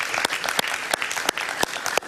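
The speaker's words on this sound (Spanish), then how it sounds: "Un aplauso para ellos, por favor" Studio audience applauding guests introduced on a Venezuelan political talk show, a steady patter of many hands with a few sharper claps standing out, close and lively, no voices over it.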